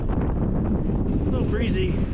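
Steady gusting wind buffets the microphone on an exposed mountain pass trail near Piegan Mountain in Glacier National Park, a constant low roar throughout, with faint voices briefly under it.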